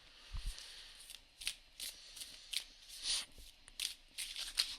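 Tarot cards being shuffled by hand close up, a run of short papery riffles and slaps repeating every half second or so, with no talking.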